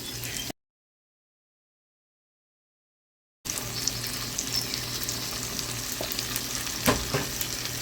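Argentine shrimp stir-frying in a sweet chili glaze, a steady sizzle that cuts out completely for a few seconds and then resumes. Faint scraping and stirring sit under the hiss.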